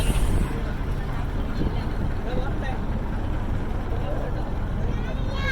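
A houseboat on the Akalapuzha backwaters chugs along slowly with a low, steady engine drone and water wash, while people talk over it throughout.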